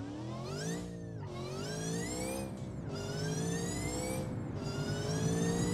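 A 1000-horsepower car with nitrous flat out on an endless highway in a driving video game, its engine whining loud and steady as it climbs through repeated upshifts, each marked by a brief dip before the pitch rises again.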